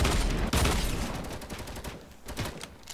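Gunshots in Fortnite Battle Royale, a loud opening burst followed by scattered sharp cracks that thin out and fade, heard on their own without talk.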